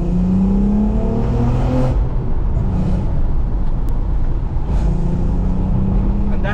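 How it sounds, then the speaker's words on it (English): An Audi A3 3.2 Quattro V6 engine roars loudly up close, rising in pitch as it revs and accelerates, with a steady drone throughout. "the four cylinder can't make noise like this."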